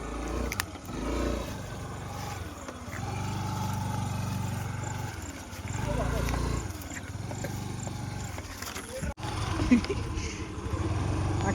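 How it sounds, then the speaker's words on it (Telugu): A mini tractor engine runs with a rough, low, droning rumble that rises and falls in steady surges, close and fairly loud throughout. "మినీ ట్రాక్టర్లో వెళ్ళాల్సి వస్తుంది."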